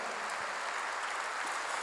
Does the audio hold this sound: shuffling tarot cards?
no